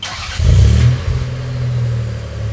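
A rare Lexus ES250 car engine cranks and catches, surges into a loud, deep rev, then settles into a steady low idle, heard up close.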